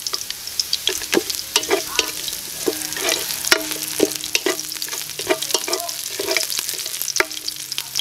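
Ginger sautéed in a hot pan while cooking Quiapo-style sotanghon, with steady close sizzling and repeated sharp clinks and scrapes of a utensil stirring against the pan throughout.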